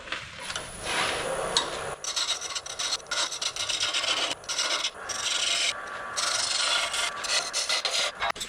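Wooden vase turned down to final dimensions on a lathe, a harsh, close, scraping and rasping cut in uneven bursts with brief breaks as the tool meets and leaves the spinning wood, no talk.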